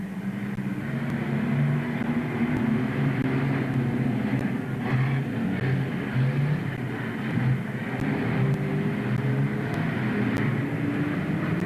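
Banger racing cars circle a track in a steady, dense roar of engines, heard from a distance as one continuous drone with no clear individual passes.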